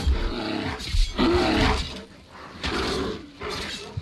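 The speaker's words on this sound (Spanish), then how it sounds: "Ay, no, está infestada de oso." A bear in the video game Skyrim gives repeated deep roars and growls in bursts, loud and close, with no talking over it.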